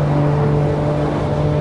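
Engine of a BMW M3 G80 held at sustained high revs at around 280–300 km/h on the Autobahn, a steady loud droning tone with a constant pitch and no talk.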